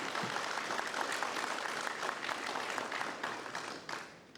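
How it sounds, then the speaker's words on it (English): A crowd applauds steadily throughout at a city State of the City event in Jurupa Valley, a dense wash of clapping that holds even and fades slightly toward the end. "Give another applause."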